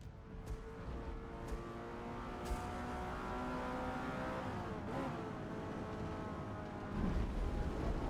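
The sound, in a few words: race car engine in video game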